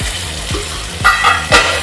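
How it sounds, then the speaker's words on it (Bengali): Water is poured into a pan of sizzling Goan chicken cafreal masala, giving a close, steady hiss and splashing sizzle with a few bursts of bubbling. "এবার আমি মশলার বাটিটা ধুয়ে একটু জল, হালকা জল আমি দিয়ে দিলাম।"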